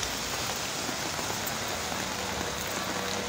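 Rain falls outdoors on a morning street, a constant close hiss of drops spattering on surfaces that holds at an even level, with no one speaking.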